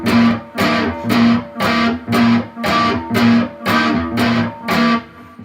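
Dissonant riff on overdriven electric guitar, with bass notes underneath: nine evenly spaced, punchy chord stabs in a steady pulse, each decaying slightly before the next, loud and close with no voices.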